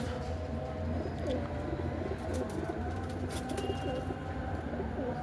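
Bleeder pigeons (Chinese Saki, Teddy breeds) cooing steadily and fairly close, with low repeated coos layered over one another in continuous background noise.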